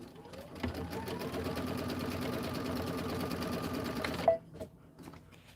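A sewing machine stitches a tack-down on an autumn border in a steady, fast, even rhythm of needle strokes for about four seconds, then stops with a sharp click followed by a few faint handling sounds.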